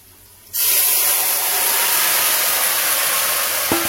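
Boiled red lentils and pumpkin greens hit a pan of hot oil with fried onion and garlic, bursting into a loud, sudden sizzle that keeps hissing steadily and up close after the silent moment before.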